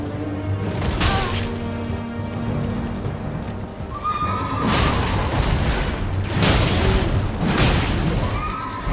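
A horse whinnies loudly in the video game Elden Ring amid heavy clattering hooves and booming crashes, a dense, chaotic scene with repeated bursts of noise.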